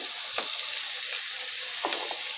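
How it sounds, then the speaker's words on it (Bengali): Salted potatoes frying in a pan, with a constant soft sizzle of oil and a few light spatula scrapes and taps spread across a short stretch, fairly quiet and with no talking. "এবার আমি সব ভালো করে লাল লাল করে ভেজে নেবো"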